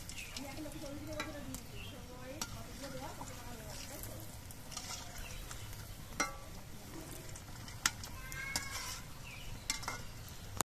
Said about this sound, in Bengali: আর ভাজার সময় অনবরত নাড়তে হবে।